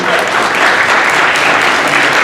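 Loud, close audience applause, a dense continuous wash of clapping hands that holds steady throughout with no talk over it.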